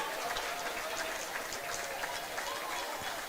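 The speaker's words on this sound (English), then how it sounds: "round of applause here from the Billingham fans." Ice hockey fans of Billingham applauding at a semi-final rink game, a continuous wash of distant crowd clapping and noise, faint and diffuse.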